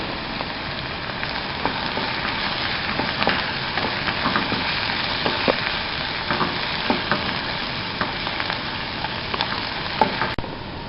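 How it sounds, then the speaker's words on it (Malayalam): Crushed garlic, eight cloves, frying in hot oil for a Kerala-style sardine curry, a steady close sizzle with faint stirring scrapes and small crackles throughout, no voices. "ഒന്ന് വഴന്നു വന്നൊന്നാകുമ്പോൾ അതിലേക്ക് വെളുത്തുള്ളി 8 അല്ലി ചതച്ചത്,"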